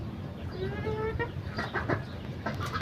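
Chickens cluck close by in a run of short, repeated calls over a steady background hum.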